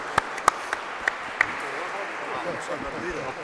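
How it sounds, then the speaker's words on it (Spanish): An audience at an academic talk on economists and sociologists applauds, with a handful of sharp, loud claps early on over a continuous wash of softer clapping that fades slightly toward the end. "Gracias, un aplauso."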